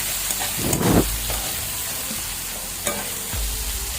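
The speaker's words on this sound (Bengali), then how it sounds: "গোটা জিরে সব কিছু ফোড়ন দিয়ে দিয়েছি। দিয়ে ওগুলোকে একটু নাড়িয়ে চাড়িয়ে নিয়েছি।" Whole cumin and spices tempering in hot oil and being stirred, a steady sizzle with a burst of scraping around the first second and another stir near the end.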